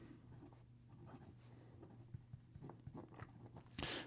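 A Platinum 3776 fountain pen with a medium 14k gold nib writes on paper, giving faint, close scratchy strokes in short bursts, ending with a louder rustle.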